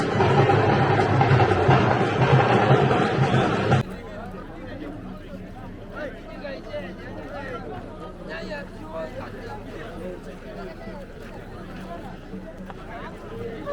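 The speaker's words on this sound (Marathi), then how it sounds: "गर्दी बघा गर्दी." Crowd hubbub and chatter at the Kavad pilgrimage in Shikhar Shingnapur, a loud dense wash for the first few seconds, then a steady softer murmur of many voices with footsteps and movement.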